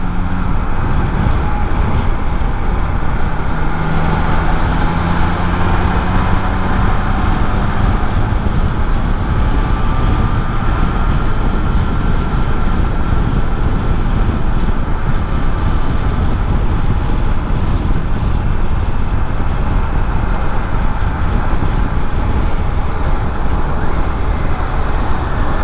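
A motorcycle engine runs steadily at idle, a constant low drone with a faint whine on top, sustained and fairly loud throughout with no talk.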